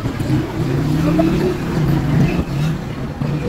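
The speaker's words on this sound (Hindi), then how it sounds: "इधर तो ट्रैफिक भी तेज है" Road traffic passing during a heavy rainstorm: a steady, loud broadband wash of rain over a low engine rumble from vehicles going by, continuous for the whole stretch.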